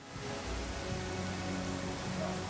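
Steady rain falling in the video game Pathfinder: Kingmaker, a continuous soft hiss of drops at moderate level with no other sounds standing out.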